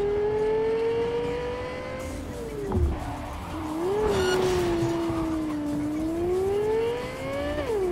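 A Caliburn supercar in Cyberpunk 2077 revs and accelerates through its gears, the loud, close engine tone rising and dipping steadily with a brief thump midway, no voices.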